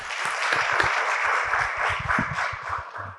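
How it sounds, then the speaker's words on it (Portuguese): Dozens of audience members clap energetically at a talk event, a dense, steady wash of applause that stays loud throughout with no voices over it. "Dezenas de pessoas na plateia batem palmas com muita energia."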